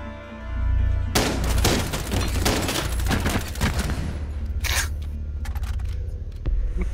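Rapid, loud automatic gunfire in Rainbow Six Siege erupts after a quiet second and keeps going in dense bursts, then tapers into a few scattered shots and clicks.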